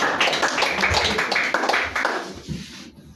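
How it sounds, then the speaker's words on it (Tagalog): Church congregation clapping for God: a brisk wash of many hands applauding together, fairly close and loud, fading out near the end. "Palakpak sa Diyos mga kapatid."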